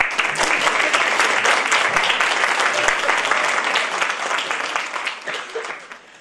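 An audience claps steadily at a Christmas concert, a dense, close burst of applause that gradually thins and fades toward the end.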